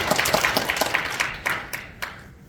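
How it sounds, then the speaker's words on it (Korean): Scattered audience clapping at a 2022 general assembly of a social safety prevention association, a handful of sharp claps in uneven rhythm that thin out and fade over a couple of seconds. "박수 치세요"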